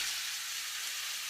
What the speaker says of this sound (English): You should hear the sizzle.